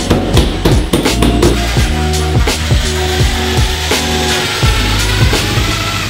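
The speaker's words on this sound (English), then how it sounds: "I'm gonna go ahead and drill the screws in" A power drill drives screws into a wall stud during a bathroom makeover, whirring in short bursts that rise and stop, mixed with sharp knocks and clicks, loud and close.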